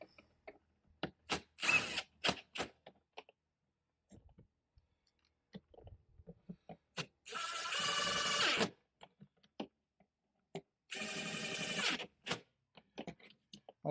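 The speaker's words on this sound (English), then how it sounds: "Might be better to use a screwdriver than an impact driver, but I'm kind of used to it." An impact driver sets screws for a slam latch on an RV compartment door. Two sustained buzzing runs of about a second each come close and loud, with scattered clicks and handling taps between them.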